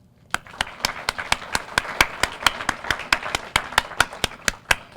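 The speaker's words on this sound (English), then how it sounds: "I want to give you a round of applause once again" A round of applause at a Camden high school graduation ceremony comes as steady, evenly spaced sharp claps, roughly three per second, sounding like a single clear clapper near the microphone over a soft murmur of the crowd.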